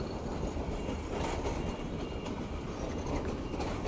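Train cars rolling past close by in Bangladesh, a steady loud rumble with rhythmic clickety-clack of wheels on rail joints and faint wheel squeal, continuous throughout with no voices.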